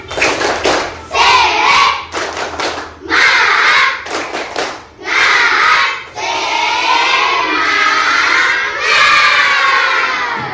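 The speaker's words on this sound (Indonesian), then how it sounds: "Tepuk semangat." A group of primary school children do a spirit clap, clapping in a quick rhythmic pattern and shouting together loudly in unison, repeating in bursts.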